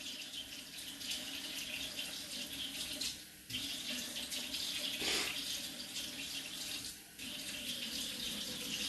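Kitchen tap running water into a container for yeast, a steady splashing stream with the pitch shifting as the vessel fills and two brief dips where the flow is adjusted, close and fairly quiet.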